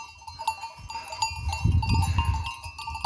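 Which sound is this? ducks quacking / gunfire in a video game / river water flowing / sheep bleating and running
sheep bleating and running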